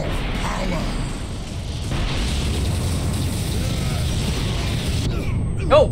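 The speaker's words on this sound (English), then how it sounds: "lots of explosions" Continuous rumbling explosions and booming blasts in the video game Warhammer 40,000: Space Marine fill the scene, with a dense low roar throughout and a sharper burst near the end.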